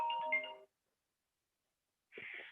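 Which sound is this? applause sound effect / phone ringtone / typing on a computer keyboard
phone ringtone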